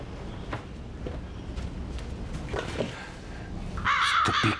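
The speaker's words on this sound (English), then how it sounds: "Stupid crows." Several crows caw in short, separate calls at a moderate distance over a quiet outdoor background, ending with a louder, nearer burst of harsh cawing.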